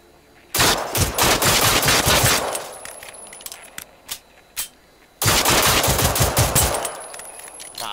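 Automatic gunfire in the Generation Zero video game, aimed at a relay beacon, comes in two long, loud rapid bursts separated by a pause with a few scattered single shots.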